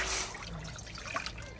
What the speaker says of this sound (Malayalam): മാഗിക്ക് വേണ്ടി നമ്മൾ വെള്ളം ഒഴിക്കുകയാണ് ആദ്യം.